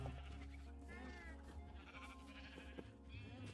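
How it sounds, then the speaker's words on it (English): Sheep bleat repeatedly in a blocky video game, the wavering calls layered over steady game music and background noise, fairly close and continuous throughout. "Sheep! Sheep!"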